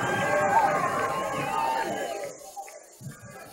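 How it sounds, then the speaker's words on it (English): A big stadium crowd at the 2002 Hawaii Bowl college football game between Hawaii and Tulane roars loudly, a sustained swell of cheering that gradually fades toward the end. "And here's the roar from the crowd"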